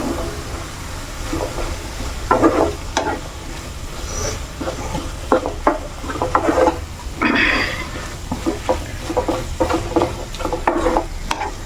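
Soybean curry frying in a pan is stirred with a spoon, giving a steady sizzle under repeated scraping and clinking strokes against the pan, close and fairly loud throughout.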